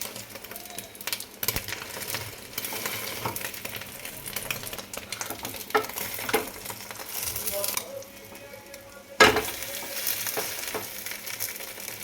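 Egg toast with chopped onion and green chilli frying in a pan, a steady broadband sizzle with scattered scrapes and clicks of a utensil, plus a sharp clatter near the end.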